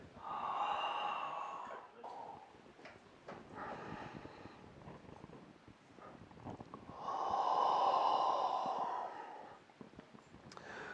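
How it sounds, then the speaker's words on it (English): Slow, deliberate breathing during a qigong exercise, one long audible exhale followed after a pause by a long inhale, close and fairly loud against a quiet room, no talking over it. "So we're going to exhale. Inhale."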